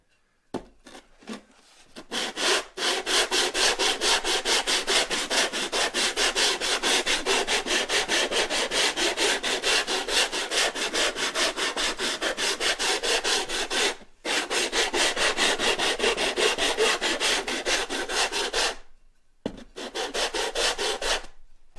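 Wood is sanded with a taped sanding beam, fast, regular back-and-forth rubbing strokes, a rasping scratch that continues for long stretches, pausing briefly twice before resuming.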